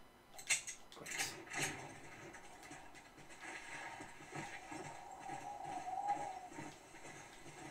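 Horse hooves clip-clopping in the Red Dead Redemption: Undead Nightmare video game, a few quiet uneven hoof strikes early on, then fading into soft ambient game sound.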